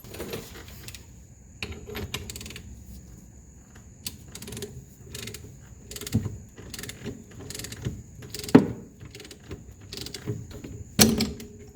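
Bolt tightened on a tool to separate the steering knuckle from the upper control arm of a 1983 Mercedes 300D, a run of close ratcheting clicks and metallic creaks ending in a sharp crack.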